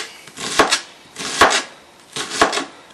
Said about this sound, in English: I can actually onionize this onion into onion pieces